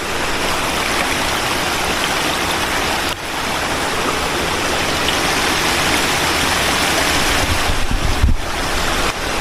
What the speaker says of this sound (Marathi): सुंदर असा ओहोळ आहे